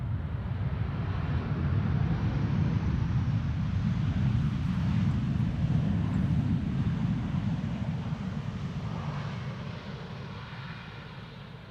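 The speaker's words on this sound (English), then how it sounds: "KLM flight 1030 arrived from Chester, 737-800." A KLM Boeing 737-800 arrives at Amsterdam Schiphol on a December morning, its engines a steady, loud low roar that holds for most of the span and eases slightly toward the end, with some wind noise and no talk.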